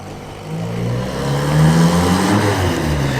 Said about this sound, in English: Very fruity sounding engine, of course rear mounted in those.